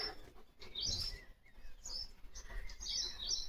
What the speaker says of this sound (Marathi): चिव चिव चिमण्या